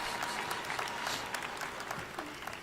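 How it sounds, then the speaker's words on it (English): Crowd cheering and applauding at the Summer Game Fest 2024 games showcase, a dense, steady roar of clapping and shouting that holds loud and unbroken throughout with no speech over it. "That was a lot of cheering."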